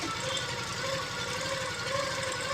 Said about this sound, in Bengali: এখানে আবার আমি ডবল সেলাই দিয়ে দিচ্ছি